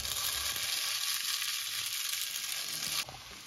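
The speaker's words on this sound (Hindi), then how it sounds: "तो आयुष इसको मिक्स कर रहा है अपने अलग स्टाइल में" Chowmein sizzles and fries steadily in a hot pan while being stirred, a loud continuous hiss that drops slightly near the end.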